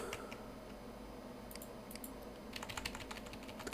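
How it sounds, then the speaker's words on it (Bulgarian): Rapid clicking of a computer keyboard at a home desk, a steady patter of keystrokes under a constant background hum, growing busier toward the end. "Ако се чувам много клавиатурата, извинете."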